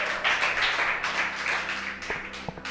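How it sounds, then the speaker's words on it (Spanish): Church congregation applauding together, a broad wash of clapping that swells and fades over a couple of seconds, ending with a few scattered single claps. "Bueno, le das un aplauso al Señor, hermano."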